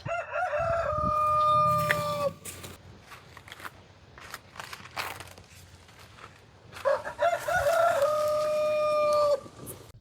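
A rooster crows loudly twice on a homestead, long drawn-out calls at the start and again near the end, with chickens clucking and scratching faintly in between and outdoor background around them.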